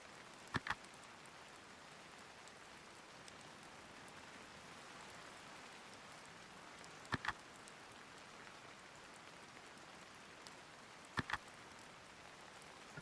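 Steady soft rain hisses faintly and evenly throughout, with a few sharp clicking ticks at widely spaced moments.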